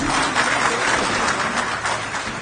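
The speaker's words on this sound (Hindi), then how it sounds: "इनके लिए मेरी तरफ से एक बार जोरदार ताली बजा दीजिए।" Audience applause at a political rally in Bihar, a dense, steady wash of clapping from a large crowd lasting throughout without a break.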